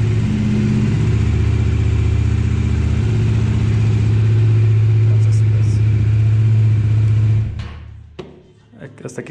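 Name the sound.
motorcycle engine running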